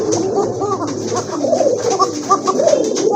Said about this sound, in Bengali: দেখেন ডাকটা দেখেন কবুতর মাশাআল্লাহ, খুব সুন্দর ডাক